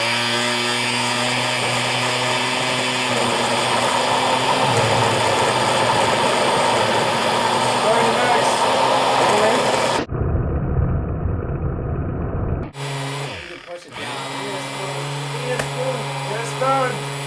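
A loud, steady blender motor whine runs continuously with a gritty churning texture as it blends fruit for smoothies, cutting out abruptly for a moment before starting up again.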